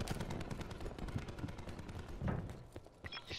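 Strike team gunfire in the multiplayer video game Call of Duty Black Ops 4, quick bursts of automatic shots in rapid, uneven volleys, moderately loud and continuous throughout.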